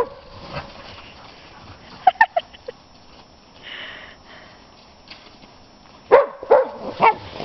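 Pet dogs barking and yipping in a household, a few sharp close barks early on, then quieter sniffing, followed by a louder cluster of barks near the end.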